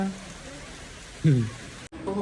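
Rain falls outdoors as a soft, steady hiss, briefly interrupted by a short burst of a voice partway through.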